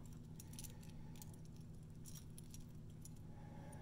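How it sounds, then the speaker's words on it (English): Keys jangling among estate-sale jewelry in a box, heard as faint, scattered metallic clinks over a low, steady background hum, with no speech. "Keys."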